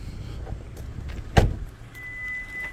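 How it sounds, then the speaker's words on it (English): A 2020 Hyundai Kona Elite 2WD engine idles steadily at close range, joined by a brief clunk and, later, a thin continuous electronic key-in-ignition warning beep. "And the car is of course still running."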